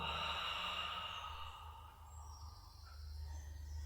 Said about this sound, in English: Take a big, huge, enormous, deep breath in now. And let it go.